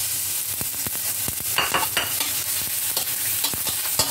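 Onion sautéing in a pan, a steady close sizzle with frequent scraping strokes of a spatula as it is stirred, the stirring bunching into busier bursts midway.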